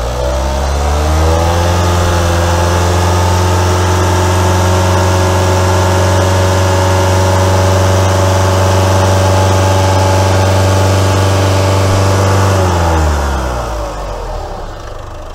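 A car engine revs up and holds near 3000 rpm as a steady, loud drone for about twelve seconds before dropping back toward idle.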